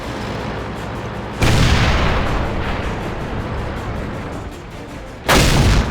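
Two heavy tank cannon shots boom in the World of Tanks video game, sharp loud blasts a few seconds apart, each with a rumbling decay beneath steady engine noise.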